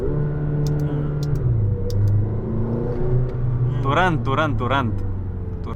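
A McLaren GT engine rumbles close up and blips sharply in quick rev bursts during a gear downshift, with a voice briefly heard over the engine.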